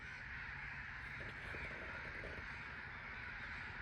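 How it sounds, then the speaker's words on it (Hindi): A large flock of crows caws continuously, many birds calling at once in a dense, steady outdoor chorus of moderate loudness with no speech. "भाई इतना तादाद जो है इन परिंदों का"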